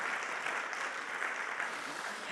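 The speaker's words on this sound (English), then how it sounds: "he deserves a round of applause" Conference attendees clap for host Stefan, an even wash of applause from a room of people, soft and distant, holding steady for a couple of seconds.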